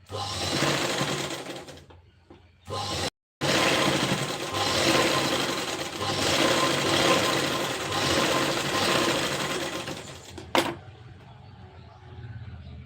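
A sewing machine stitches a blouse sleeve in loud, continuous whirring runs, briefly pausing twice before carrying on, then stopping near the end.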